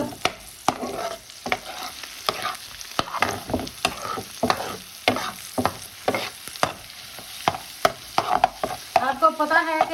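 Onion, vegetables and egg frying in a non-stick pan, a steady sizzle broken by regular scraping stirs of a utensil against the pan, close and fairly loud, with no talking.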